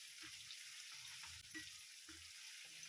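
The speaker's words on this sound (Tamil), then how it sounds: "நல்லா வதக்கி விட்டுக்கோங்க" Brinjal pieces sauté in groundnut oil in a pan, a faint steady sizzle with soft periodic stirring scrapes and low clunks recurring about every half second.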